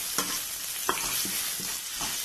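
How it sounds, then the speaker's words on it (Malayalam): Sliced onions with salt sautéing in a pan for a Kerala tapioca stir-fry, a steady close sizzle broken by several spatula scrapes and taps. "സവോളൊക്കെ ഒരുപാട് വഴുകേണ്ട ആവശ്യമില്ല, ചെറുതായിട്ടൊന്ന് വഴുത്തിയെടുത്താൽ മതി."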